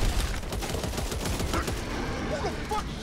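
Rapid bursts of gunfire in the zombie shooter game Back 4 Blood, a dense run of overlapping shots at moderate level under game ambience, with faint voices partway through.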